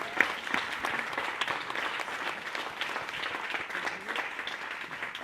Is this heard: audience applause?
yes